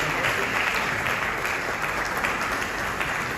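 An audience at a women's conference in Accra breaks into sustained, even applause, a loud continuous roar of many hands clapping with no speech over it.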